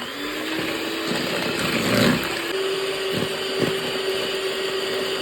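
Electric blender whirring steadily as it beats cake batter with vanillin for an apricot pie, a continuous motor drone with a slight surge midway and no talking.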